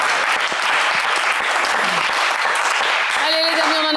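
Studio audience on a French TV game show applauding loudly and steadily, a dense sustained wash of clapping that fills the whole stretch, with a brief musical tone entering near the end.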